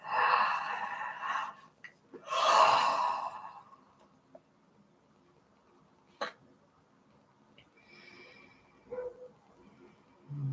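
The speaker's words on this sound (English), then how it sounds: "Taking a deep inhale." A deep breath drawn in during a calm guided relaxation session, a soft airy inhale that swells and fades, followed by a second fuller breath, then near-silence with a few faint small noises.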